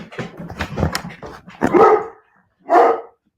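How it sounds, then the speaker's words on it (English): A dog barks close by, two loud sharp barks following a stretch of softer whining and yips. "what are you barking at?"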